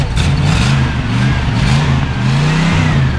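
A 1971 Dodge D200 Custom Camper Special truck engine revs steadily and loudly up close, its throttle swelling and easing in a couple of rising passes over a continuous mid-pitched growl.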